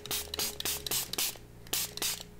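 Aerosol spray paint hisses onto a painting in repeated short bursts, several quick sprays and a few longer ones, close and loud, with rattly pauses between them.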